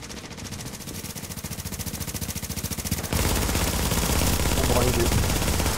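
A fire turret in The Division shooting a steady, rapid machine-gun stream, rhythmic bursts that grow louder and become a heavier, denser roar of fire halfway through.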